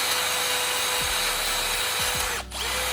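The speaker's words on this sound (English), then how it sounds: "let me get to some grinding" An angle grinder works rust off welded spots on the body of an Acura TSX turbo build, a continuous close whine with a short break near the end before it spins back up, no talking.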